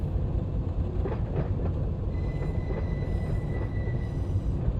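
A freight train in the Run8 train simulator rolls along with a steady heavy rumble, soft rail clatter and a thin high wheel squeal joining midway, with no talk.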